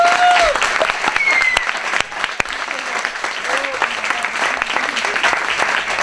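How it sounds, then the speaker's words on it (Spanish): Audience applause for pianist Patricia Pérez at a cultural performance, loud sustained clapping from a crowd with a few whistles and scattered voices mixed in. "adelante, un fuerte aplauso"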